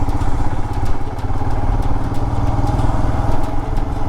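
Motorcycle ridden through Punjab farmland, its engine thrumming steadily and close with a regular pulsing beat and light clatter, a constant drone with no voices.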